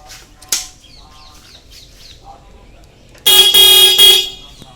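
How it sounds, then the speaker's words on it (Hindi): Horn of a Bajaj Prime motorbike, just repaired, blares loud and close in a steady tone for about a second and a half, following a quieter stretch with faint background sounds. "हॉर्न का एकदम मस्त बज रहा है,"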